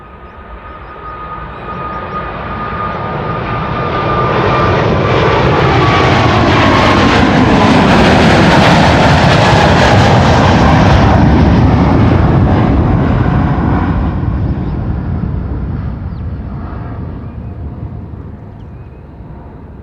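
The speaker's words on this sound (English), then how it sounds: "Time for KLM flight 743 to Lima in Peru to be taking off." A KLM airliner, flight 743 to Lima, takes off at Amsterdam Schiphol Airport, its engine roar swelling to a loud, sustained peak as it passes close, then slowly fading into the distance.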